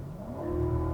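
A 2020 BMW X7 with a twin-turbocharged V8 pulls hard, its engine drone climbing smoothly in pitch over a second, steady and moderately loud without any voices.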